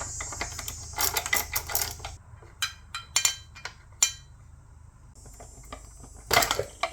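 A ratchet working a bolt loose on a 1972 Johnson 9.5 outboard motor, with bursts of quick metallic clicking and scattered sharp ticks and clanks, close up, with no talking over it.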